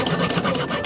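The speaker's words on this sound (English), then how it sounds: "We're just gonna start sawing this piece off." Hand saw rasping through a piece of wood, several quick back-and-forth strokes in an even rhythm, close up with no voices.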